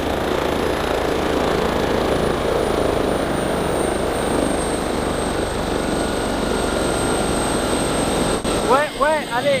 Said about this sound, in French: je vais faire atterrir le drone